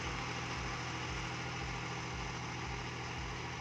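A John Deere 5105 4WD tractor with a 40 HP, 2930 cc engine runs at a steady idle, close and loud, with a constant low throb and even rumble throughout and no voices.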